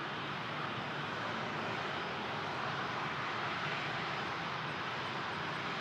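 A steady, broad roar from an Air Canada Rouge airliner taking off at Toronto Pearson airport, heard at a distance as a constant engine rumble that holds without breaks.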